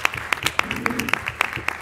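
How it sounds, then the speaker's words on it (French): Brief audience applause after a question session, a quick patter of claps at moderate loudness with a murmur of voices mixed in. "Une bonne main d'applaudissements."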